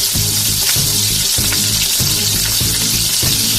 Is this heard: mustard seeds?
yes